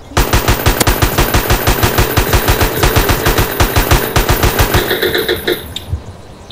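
Rapid bursts of automatic gunfire in the video game DayZ crack in a fast, even rhythm, loud and close, then trail off into a few scattered shots near the end.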